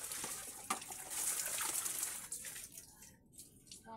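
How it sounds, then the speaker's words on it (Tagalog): Running tap water gushing and splashing while dishes are washed, steady and fairly close, then tapering off and cutting out near the end. "pag ako naghugas guys, gusto ko lunod na lunod sa tubig itong mga hinugasan ko"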